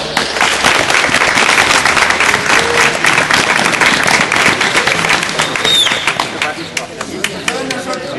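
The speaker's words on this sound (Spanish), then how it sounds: "¡Un aplauso!" A crowd at an antique fencing event applauds loudly, a dense burst of clapping sustained for several seconds before tapering off near the end.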